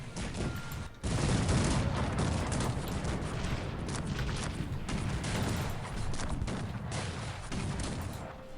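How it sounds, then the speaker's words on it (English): Cannons fire in a Russian war battle in the strategy game Cossacks 3, a loud, dense, continuous barrage of overlapping booms and volleys that rolls on for several seconds with no talk. "their cannons are really busting me up"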